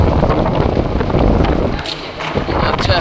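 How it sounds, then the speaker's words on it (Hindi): Wind blows outdoors at the Masjid e Buratha shrine in Baghdad, Iraq, producing a loud, steady rumbling buffet across the microphone that dips briefly before surging again. "हवा चल रही है यहाँ पे"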